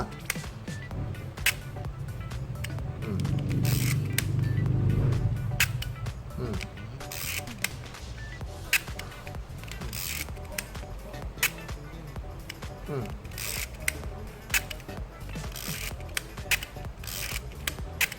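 An Agfa camera shutter being fired, its cleaned blades giving a series of sharp, separate mechanical clicks spread across the clip. A low hum swells briefly near the start.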